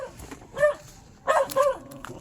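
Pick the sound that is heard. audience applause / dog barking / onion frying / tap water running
dog barking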